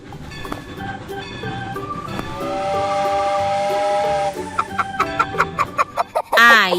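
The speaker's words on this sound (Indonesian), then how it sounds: "ayam" Chicken clucking in an educational children's animal-name game with a cartoon train, preceded by a bright synthetic steam whistle and hiss, then a quick series of loud, close clucks.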